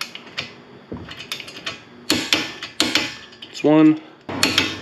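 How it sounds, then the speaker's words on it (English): A torque wrench tightens brake bolts on a 10th-generation Honda Civic, producing several short metallic ratcheting clicks in bursts, with a brief spoken word in between. "We're gonna torque those two bolts to 80 pound feet. So we'll just use our torque wrench here."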